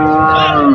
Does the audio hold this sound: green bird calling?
no